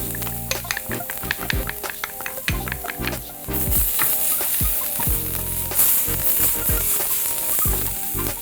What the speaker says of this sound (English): I'm gonna just stir fry this ginger and these peppers 20 seconds or so